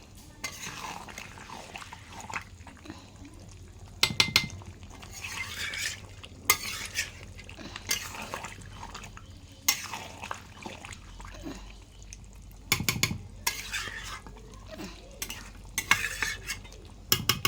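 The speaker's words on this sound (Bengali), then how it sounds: "একটু নাড়িয়ে নিই" Chicken being stirred in a pan on the stove gives a steady scrape and sizzle, with repeated sharp clinks of a spoon against the metal pan throughout. No one speaks.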